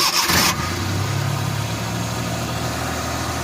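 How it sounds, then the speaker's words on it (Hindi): Suzuki Bolan engine turning over on the self-starter with a brief cranking burst, then catching and settling into a steady, close, rumbling idle. "कनेक्टर इसका हमने लगा दिया, अभी सेल्फ लगाने लगे हैं"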